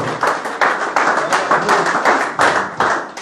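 A church congregation claps and applauds together, with loud, fairly steady rhythmic clapping at close range throughout and voices mixed underneath.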